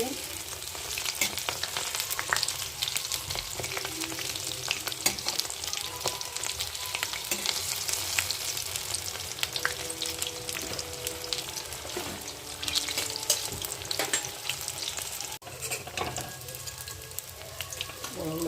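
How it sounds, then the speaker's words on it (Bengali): Cauliflower and eggplant fritters deep frying in hot oil, a steady crackling sizzle with bursts of popping that runs loud and close throughout, with no voices over it. "লাল লাল করে ভাজা হয়ে গেছে"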